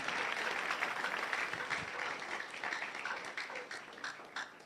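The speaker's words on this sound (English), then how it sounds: "A round of applause once again for Prof." A live audience claps for a guest on a drive-time broadcast, a brief burst of many hands that thins out toward the end, heard at a modest level.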